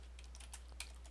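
Quiet typing on a computer keyboard during an accounting lecture: a few scattered, faint keystrokes over a steady low hum, with one slightly sharper tap near the end.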